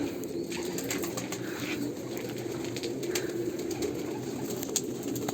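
Pigeons released at a breeding loft coo in a steady, murmuring chorus, with occasional soft wing flaps and chirps close by.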